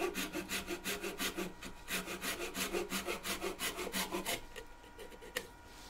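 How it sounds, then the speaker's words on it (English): Hand saw cutting through wood to part off a thin-walled turning, a fast even run of rhythmic back-and-forth strokes, close and clear, then stopping abruptly near the end with no talk. "I saw that off there."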